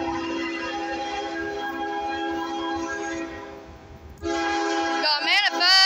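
A northbound CSX manifest freight train passes near Springfield, Tennessee on the Henderson subdivision, a loud rumbling roll with a long horn blast that swells sharply near the end.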